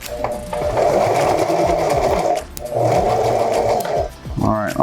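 A sewing machine stitches fabric for an adjustable mask in two loud, close runs of rapid mechanical whirring, separated by a short pause, with a voice talking over it.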